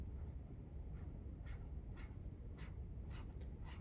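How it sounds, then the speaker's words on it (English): Dip pen nib dragged across paper laying down ink lines, a series of short soft scratchy strokes spaced about half a second apart over a steady low background hum. "you can go in with your inkwell and your nib and get a less consistent line"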